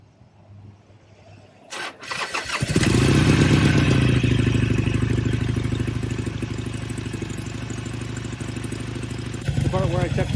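A dry-sump motorcycle engine, freshly serviced with new oil, is started after a brief rattle and settles into a loud, steady idle that rumbles close by for several seconds.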